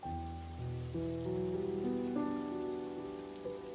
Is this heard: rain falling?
yes